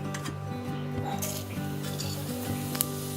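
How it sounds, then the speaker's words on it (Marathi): Cumin and mustard seeds hit two spoons of hot oil in a kadhai on the gas while making thin poha chivda, giving a steady crackling sizzle with light metallic clinks, no voices. "दोन चमचे तेल गरम झाल्यावर त्यात आपण मोरी जिरे टाकून घेऊया मोहरी"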